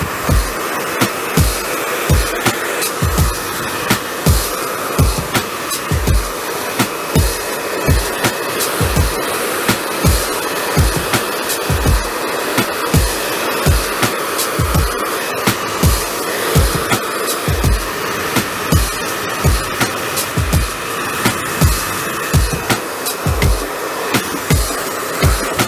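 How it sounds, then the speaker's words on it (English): A hair dryer blowing steadily while medium-length hair is blow-dried for root lift and volume, its continuous whoosh broken by regular pulsing thumps as the brush or nozzle moves through sections, close and loud with no talking. "Blow drying is about product, tension, and root lift."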